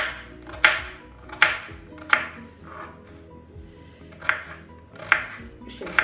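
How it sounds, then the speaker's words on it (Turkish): A knife chops dry onions finely on a cutting board in sharp, evenly spaced taps, about one per second, close and crisp over quiet kitchen background. "Bu şekilde ince ince kuru soğanlarımızı kıyıyoruz."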